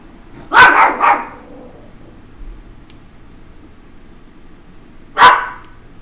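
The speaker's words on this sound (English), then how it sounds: "I hope he's not turning into a little yap yap dog." A small dog barks sharply, a quick pair of yaps followed after a pause by one more single bark, close and loud in an otherwise quiet indoor room.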